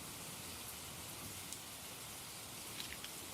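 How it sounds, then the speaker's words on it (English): Rain falls as a soft, steady hiss of background nature sounds, faint and even with a few tiny drop taps, and no talking. "How do you guys like the nature sounds?"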